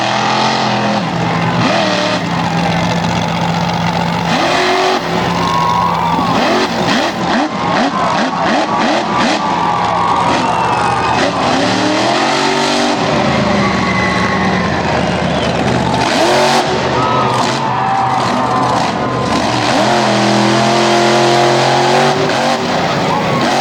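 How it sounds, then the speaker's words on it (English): A big fire-truck monster truck from Michigan runs hard at a Hagerstown event, its loud engine roaring continuously with surging revs and tire noise, the steady dense roar filling the whole stretch. "The big fire truck out of Michigan being driven by the gentleman from Leicester, Massachusetts. Running hard."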